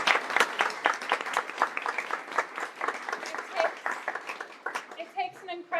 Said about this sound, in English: One more round of applause for Rosa.